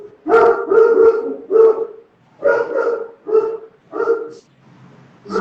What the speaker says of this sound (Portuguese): dois cachorros grandes